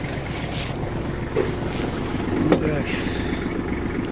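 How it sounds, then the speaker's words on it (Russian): A Kubota GL21 Japanese mini tractor runs with its tiller engaged, giving a steady, rough mechanical drone with broadband rumble throughout, and a brief spoken word near the middle. "Фреза работает."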